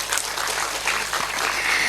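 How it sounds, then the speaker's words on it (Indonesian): Audience applause at an Indonesian Islamic religious gathering led by a woman preacher, a short burst of steady, fairly loud clapping from many hands with no talk. "Tepuk tangan dulu dong."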